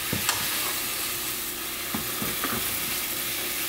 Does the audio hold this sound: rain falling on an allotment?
no